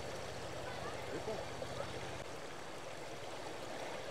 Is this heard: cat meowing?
no